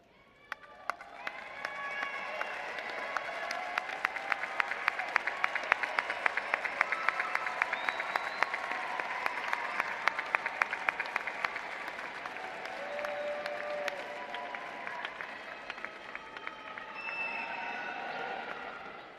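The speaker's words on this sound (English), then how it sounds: "salute them with your applause" Graduates at a Florida State University spring commencement applaud their families in a steady, dense wash of clapping that swells and holds for nearly twenty seconds, with faint cheers mixed in.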